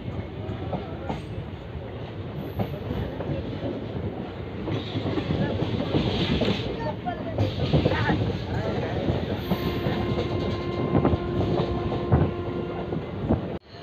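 The Chetak Express passenger train rolls on the rails near Phulera Junction with a continuous rumbling clatter and rhythmic wheel clicks, a steady tone rising near the end as it slows, and faint voices underneath.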